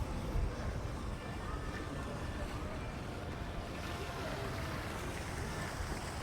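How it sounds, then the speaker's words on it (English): Fountains splash in the centre of the Mallorca Fashion Outlet in Majorca, a constant broadband rush of falling water filling the scene at moderate distance, with no clear voices standing out. "in the centre here we've got fountains"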